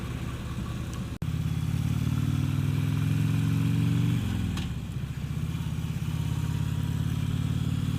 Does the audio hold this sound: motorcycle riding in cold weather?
yes